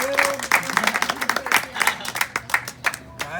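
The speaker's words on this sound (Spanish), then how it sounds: "Vamos a darles un fuerte aplauso." Group applause at a youth campfire gathering, uneven bursts of hand clapping from a modest crowd with voices mixed in throughout.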